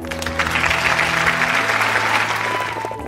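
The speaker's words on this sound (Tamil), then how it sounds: "குழந்தைகளுக்கு முதலில் நாம் கைதட்டி பாராட்டு தெரிவிப்போம்." A church congregation applauds children after their Way of the Cross performance, steady clapping from many hands that swells and holds over a low background hum, fading slightly at the end.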